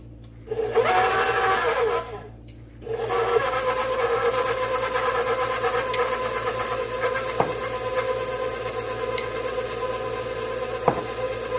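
A KitchenAid stand mixer kneads whole wheat bread dough with a steady, close motor whine that dips briefly near the start, then runs on evenly, broken by a couple of faint clicks.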